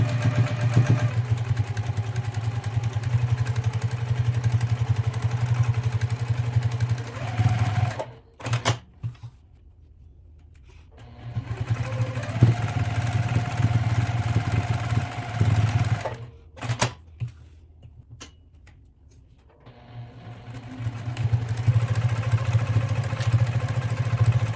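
A sewing machine runs in sustained whirring bursts while stitching a fabric container, stopping for a couple of short pauses before starting up again.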